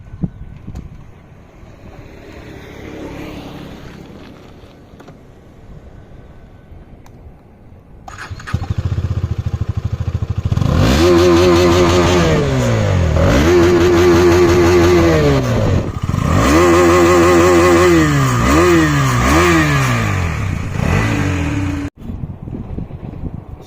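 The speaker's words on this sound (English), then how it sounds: "Let's hear 250 Adventure, how it makes, I mean how it revs. So let's rev it a bit." KTM 250 Adventure motorcycle idling quietly outdoors, then the engine starts loud and is revved in repeated rising and falling blips, three bursts of climbing revs before it cuts off, with wind noise on the microphone.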